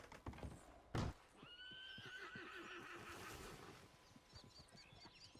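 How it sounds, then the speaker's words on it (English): Horse in the video game Red Dead Redemption 2 gives a loud, drawn-out whinny near the start of a steady run of clip-clop hooves, close by and with nobody talking. "You don't really have to whistle for your horse, it should come in automatically, but you can whistle for it."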